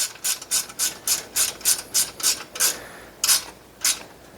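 A ratchet wrench tightens a small bolt on the interlock probe of a Brunswick A2 bowling pinsetter, a crisp rhythmic series of about ten close clicking strokes with a short pause before the last two.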